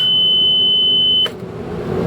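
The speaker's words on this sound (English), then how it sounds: "So that is a no oil pressure alarm, and I'll turn it off" A boat engine's no-oil-pressure alarm sounds as a loud, steady high-pitched electronic tone, then cuts off abruptly with a click, leaving a low hum.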